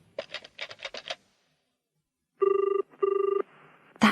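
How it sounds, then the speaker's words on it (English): A telephone rings in two bursts of a bright electronic trill, each lasting about half a second and clear and close, right after a quick series of button presses on the phone. "It was ringing."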